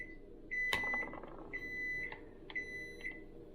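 A kitchen timer beeps repeatedly in short, evenly spaced tones near the mic, with a loud clatter early on, during beer can label removal on a hot can.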